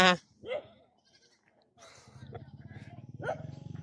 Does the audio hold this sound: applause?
no